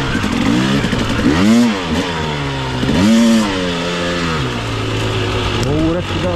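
An enduro dirt bike engine revs up and down repeatedly, loud and close, rising in sharp bursts then settling back to a rough idle.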